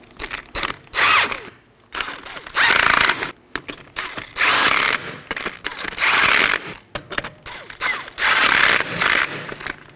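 A hand ratchet tightens steering rack bellows bolts on a 2018-2024 Chevrolet Equinox, with repeated bursts of rapid clicking strokes separated by short pauses, close and loud, with no talking.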